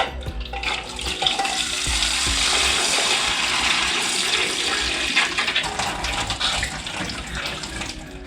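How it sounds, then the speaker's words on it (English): Water pours steadily into a cooking pot of eggs for boiling, with a rushing, splashing hiss that continues for several seconds, loud and close. "add water in our clean sufuria until they're all covered in water"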